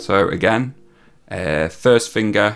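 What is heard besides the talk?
No distinct noise like a dog, phone or traffic.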